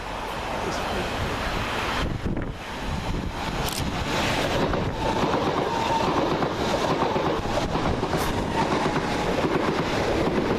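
A passenger train rumbles past at close range through Hassocks railway station, with a steady, broadband roar and wind buffeting, sustained throughout with occasional metallic squeals.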